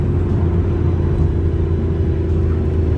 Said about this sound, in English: But man, when you get up into that higher RPM range,